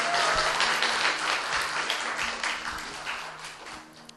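Campers at a Korean church sea camp applaud to welcome a student to the front, a lively burst of clapping that starts strong and gradually thins out over a few seconds.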